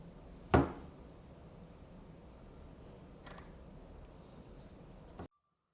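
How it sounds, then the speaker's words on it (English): An Oukitel C21 Pro smartphone's camera shutter sounds once for a selfie, a single sharp click near the start, followed later by a fainter brief click in a quiet room. "let's take our first selfie"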